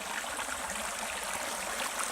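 Creek water rushes along Spencer Creek in the Uwharrie area after Hurricane Florence, a steady broad hiss of flowing water with no voices.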